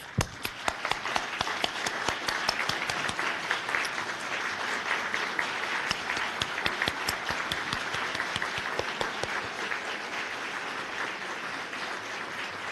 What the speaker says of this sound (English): give another round of applause to our city staff.